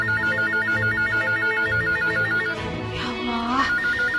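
An office telephone rings with a steady electronic warbling tone that repeats in a fast trill, loud and close, and a voice briefly cuts in near the end.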